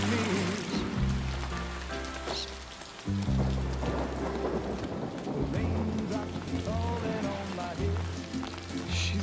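Timefall rain and rolling thunder in the video game Death Stranding 2, steady rain hiss with deep thunder rumbles, mixed with game music and voices talking over it.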